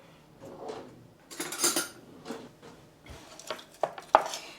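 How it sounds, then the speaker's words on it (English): Green onion and cabbage are stirred together with Thai peanut sauce, producing a string of clinking, scraping utensil-on-dish sounds at irregular intervals, close and moderately loud. "And I'm going to stir that together."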